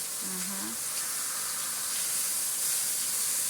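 Meat sears in a hot pan with a loud, steady hiss and sizzle close by, and a brief voice-like tone cuts in near the start.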